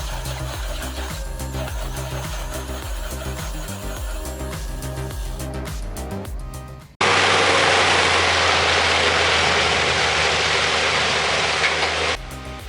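A stump shredder hitched to a John Deere 7730 tractor runs loud and steady, first a rhythmic knocking engine chug, then a sudden switch to a dense, continuous roaring grind that cuts off near the end.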